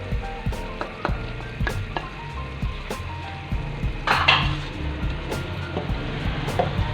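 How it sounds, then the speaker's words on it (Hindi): Chicken with red chilli, turmeric and salt frying in ghee gives a steady low sizzle, broken by repeated sharp clicks and knocks of a spoon stirring against the pot. "इसको भूनेंगे ताकि गोश्त अलग हो जाए और घी अलग हो जाए।"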